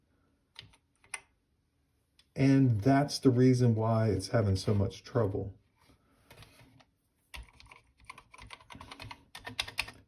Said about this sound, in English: start pressing on the keys.